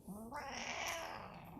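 A cat meows in a long, complaining wail, one drawn-out rising and falling cry that fills the moment, close and fairly loud with no talk over it.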